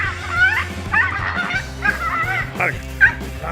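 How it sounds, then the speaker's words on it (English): A tiny dog barks repeatedly at a tegu lizard, a series of sharp, close yaps spaced out over a few seconds with a steady low hum beneath. "A tiny dog quickly regretted messing with the tegu lizard when it suddenly had enough of its annoying barking"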